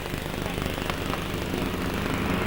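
Grasstrack racing motorcycle engines revving together at the start of a 2002 race, a dense continuous engine roar held steady and loud throughout.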